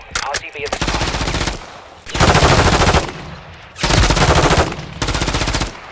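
Sustained machine gun fire in Call of Duty MW3: loud, close automatic bursts lasting a second or more each, separated by brief pauses, with a few single shots at the start.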